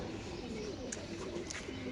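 White Lakkha pigeons coo faintly in a steady, low murmur, with light background noise and hints of distant voices.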